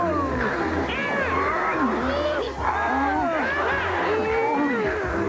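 Cartoon cat, the killer kitty, snarling, yowling and meowing in wavering bent cries over a busy, loud background of clatter and music, continuous for several seconds.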